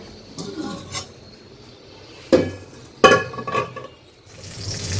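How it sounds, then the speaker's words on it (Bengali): Garlic, dried red chillies and green chillies fry in hot oil, a soft sizzle broken by scattered clinks and scrapes of stirring in the pan, close and fairly quiet, with no talking. "ভক্তার জন্য রসুন শুকনো মরিচ কাঁচামরিচ সব কিছু ভেজে নিচ্ছি"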